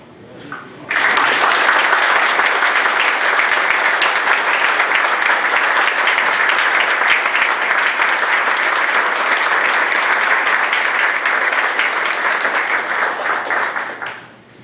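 An audience at a men's conference applauds after a speech, a loud, dense, sustained burst of clapping that starts abruptly and lasts over ten seconds before fading.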